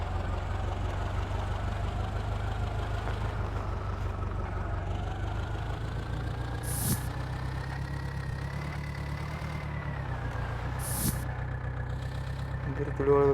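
A tractor engine idling in a tractor video game, a steady low rumble throughout with a faint rising whine and a couple of brief sharp clicks.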